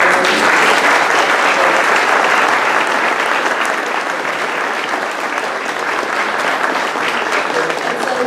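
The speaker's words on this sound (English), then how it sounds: "let's give another round of applause for the" Sustained, dense applause from a community meeting audience at a Beaches Watch gathering, steady and fairly loud for the whole stretch with no break.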